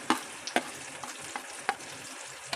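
A spoon scrapes and taps in a bowl, mixing turmeric, Kashmiri chilli, coriander and cumin powders into the water left from ground banana flower, with a few sharp knocks in an uneven rhythm and no talking.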